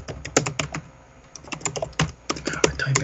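Someone types on a computer keyboard, a close, uneven patter of sharp key clicks in quick bursts with short pauses between them.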